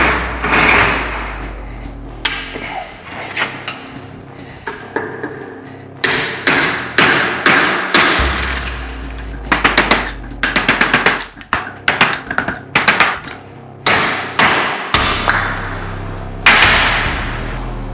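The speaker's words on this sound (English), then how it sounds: "Purposely pick that to beat on. Go from this backside." A hatchet pounds on the spine of an MKC Tactical SERE25 knife, giving sharp metallic hammer blows in irregular bursts, some isolated and some in quick clusters, loud and close with dull thuds between.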